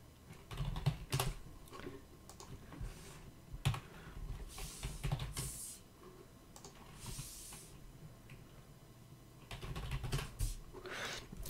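Someone types on a computer keyboard, with soft clusters of key clicks and short bursts that come and go at a close, quiet level, while renaming a node in DaVinci Resolve.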